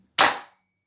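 Airsoft rifle firing plastic BBs, a single sharp, close snap with a quick decay and otherwise near silence.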